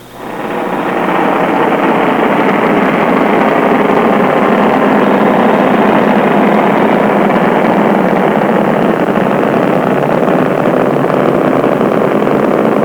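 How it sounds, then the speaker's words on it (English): Space Shuttle Discovery's main engines during the STS-51 launch, a loud, continuous broadband roar that rises quickly at the start and then holds steady and unbroken for the whole stretch. "Discovery's engines now throttling down as the orbiter passes through the area of maximum dynamic pressure"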